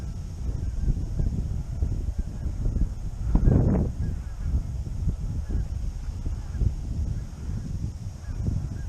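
Geese honk in flight as a flock moves past, repeated calls drifting at a distance over low outdoor rumble, with one brief louder burst midway.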